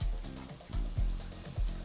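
Cream hits a hot teppanyaki plate for a chicken kimchi pasta sauce, crackling and sizzling up close with quick scraping strokes of a spatula.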